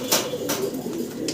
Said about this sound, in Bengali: এক জোড়া চমৎকার মডার্না কবুতর দেখাচ্ছি আপনাদেরকে